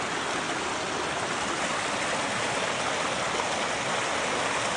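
A partly iced-over creek on a cold day, flowing with a loud, steady, close rushing hiss that never changes and has no voices.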